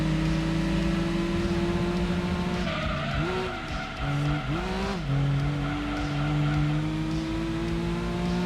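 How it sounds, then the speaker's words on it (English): Racing cars in the Gran Turismo 2 video game with steady engine drone, then tires skid and squeal as one car hits another, engine pitch wavering through the impact before settling back into a steady hum, no talk. "I crashed already into someone."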